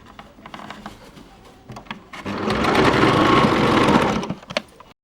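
A sewing machine stitches a baby frock, its motor rising into a loud, steady run for about two seconds between quieter starts and stops, with no talking.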